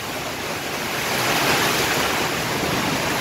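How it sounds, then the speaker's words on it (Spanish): Heavy rain driven by strong winds lashes trees during an afternoon storm, a loud, steady broadband roar of downpour and gusts that swells slightly midway and continues without a break. "por acá pues una tarde muy lluviosa"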